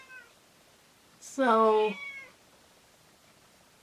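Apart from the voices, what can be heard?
cat meowing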